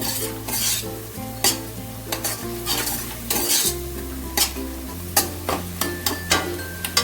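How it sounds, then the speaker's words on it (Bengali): Sugar being stirred in a hot pan, with repeated sharp spoon scrapes and clinks over a continuous sizzle, close and fairly loud, steady stirring rhythm throughout. "চিনি একটু কয়েক সেকেন্ড একটু নেড়ে নেব"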